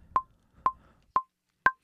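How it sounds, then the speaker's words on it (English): Logic Pro software metronome clicking alone, four short, evenly spaced tonal beeps about half a second apart, the last one pitched slightly higher as an accent, quiet and clean with no talking. "And my metronome sounds like this."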